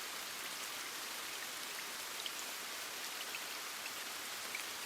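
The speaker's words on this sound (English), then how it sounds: "Listen once again to the heavy, continuous sound of the rain falling gently against your window." Heavy, continuous rain falling against a window, a steady dense hiss with no breaks and a few faint droplet ticks, with no voices over it.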